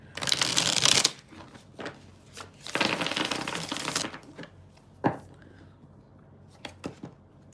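Two loud bursts of tarot cards being riffled and shuffled close by, followed by softer handling clicks and quiet pauses.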